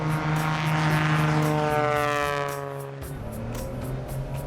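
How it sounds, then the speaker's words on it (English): A tailwheel airplane's engine runs up to full takeoff power against held brakes, a loud, steady propeller drone whose pitch shifts and then eases slightly after about three seconds, with no talk over it. "Hold the brakes, adding full power."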